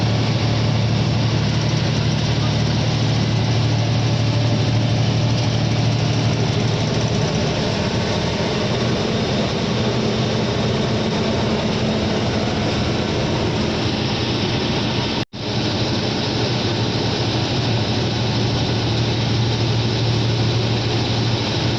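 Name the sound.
vehicle engine idling after stopping on a climb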